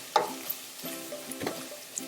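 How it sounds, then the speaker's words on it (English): Meat for a three-meat chili frying in the bottom of a pan while being stirred, with scraping strokes recurring about every half second over a steady low sizzle, close by and with no talk. "I'm moving it around in the bottom of the pan because it's starting to get to that point where it might want to"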